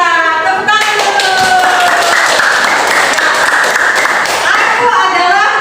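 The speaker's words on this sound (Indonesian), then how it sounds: "Tepuk tangan dulu." An audience claps loudly at an educational session, a dense burst of applause in the middle of the clip, with tonal sounds and voices around it.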